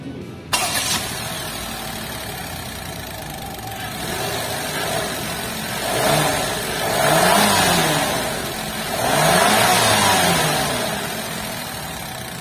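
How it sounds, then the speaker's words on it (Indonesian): Daihatsu Taft 660 cc turbocharged kei SUV engine cranks and fires, settling into a steady idle before a few throttle blips rev up and fall back, loud and close with no talk over it. "Kita pengen dengar mesinnya dulu kan, 660 cc turbocharged kayak apa"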